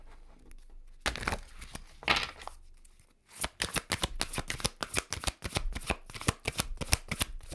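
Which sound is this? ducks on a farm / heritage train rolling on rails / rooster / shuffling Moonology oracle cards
shuffling Moonology oracle cards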